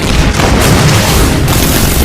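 Artillery shells bursting in an animated war film, a continuous dense rumble of heavy booms with no clear gaps, loud and close throughout.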